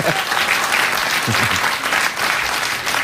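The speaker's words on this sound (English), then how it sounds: "I don't know if the audience are clapping because of that trick or just that they know they'll be able to leave soon." Studio audience at a late-night talk show applauds after a magic trick, a full, steady wash of clapping throughout, close and loud, with a faint voice underneath.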